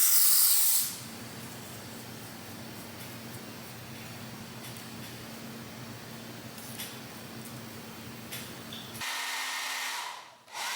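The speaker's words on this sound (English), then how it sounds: "Using the Evan Wonderly spray, as always" Evan Wonderly hair spray gives a short, sharp hissing spritz at the start and another brief burst near the end, with a quiet, steady hum in between.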